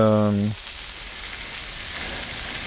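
Beef rib steak sizzles on a hot plancha with a steady, soft hiss that follows a brief voice at the start and carries on evenly to the end.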